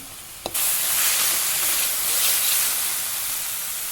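Sweet corn sizzles and fries in a pan on lowered heat while it is stirred. After a brief tap, a loud, steady hiss fills the rest of the clip, with no talking.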